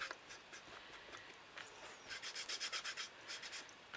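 Something is rubbed briskly back and forth over a wooden box, making soft, close scratchy strokes that turn into a quick, steady rhythm of about a dozen rubs before slowing.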